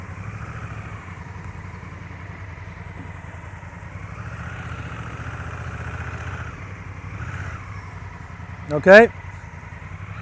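A clutchless motorcycle at a riding lesson in Uruguay runs with a low, steady engine rumble throughout, close by. An instructor talks over it, and a short sharp sound comes near the end.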